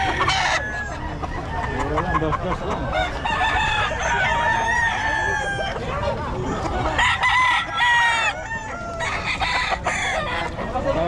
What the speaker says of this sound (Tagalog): Napakalaking manok, dos-dos.